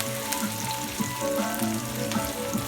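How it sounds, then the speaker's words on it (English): Pork meat sautés in a pan with a steady close sizzle and crackle, while music with tonal notes plays underneath. "Wait until they just get lightly brown."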